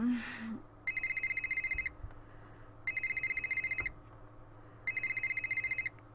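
A telephone rings in the mystery game Nancy Drew: Ghost of Thornton Hall, three bright electronic ring bursts, each about a second long, separated by short pauses over a quiet low room hum.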